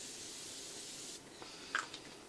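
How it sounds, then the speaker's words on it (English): A soft, steady hiss of fine mist from a facial mist and makeup setting spray bottle lasts about a second, followed by quiet and a few faint rustles. "this is an energizing mist, but it also can be a makeup setting spray"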